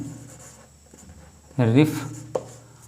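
Pen or marker scratching across a board in short strokes while someone speaks in Hindi over it, with a brief louder squeak near the end.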